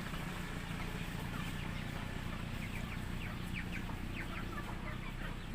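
Chickens clucking around a feeding area, scattered short clucks and calls over a steady rustling farmyard background, moderately close and fairly faint.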